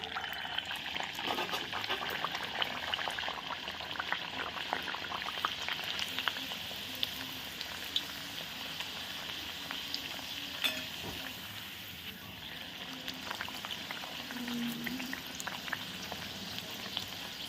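Kachori deep-frying in a pan of hot oil gives a continuous, busy sizzle and bubbling, steady and fairly quiet throughout, with occasional sharper crackles and no talking.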